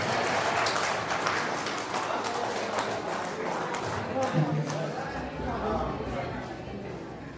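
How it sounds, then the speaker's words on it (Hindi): Audience applause at a Birsa Munda 150th birth anniversary celebration, a dense steady patter of many hands clapping throughout, fairly loud with crowd chatter mixed in. "जोर तालियां बजा नहीं सकते?"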